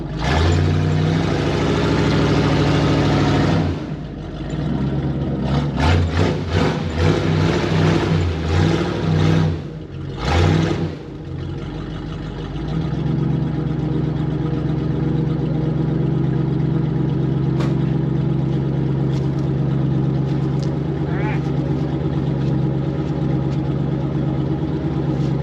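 An old camper special pickup truck's engine drones loudly and steadily while trying to tow a heavy load. Uneven revving surges come in the middle, then the engine settles back into a long, strained hum.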